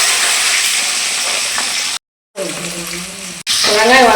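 Small onions and garlic sauté in a hot pan with oil and lentils for a Tamil tamarind curry, a steady close sizzle that drops out briefly and returns, with faint tones over it.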